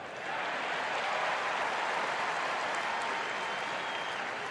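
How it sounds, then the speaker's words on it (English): A crowd cheering sound effect is played at a ballgame, a steady wash of applause and cheers that swells quickly and holds loud and even throughout. "we need some crowd noise. We'll get a little late cheer here."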